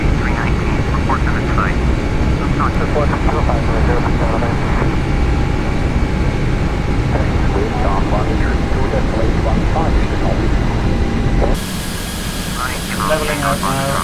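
Airbus A320 engines in flight, a loud steady broadband roar heard from the cockpit, with a voice speaking over the continuous drone.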